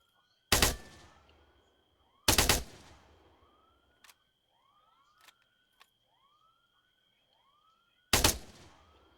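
Gunfire in the military shooter game Arma 3: three loud, separate shots spaced seconds apart, each with a trailing echo, and fainter clicks and whooshing sounds between them.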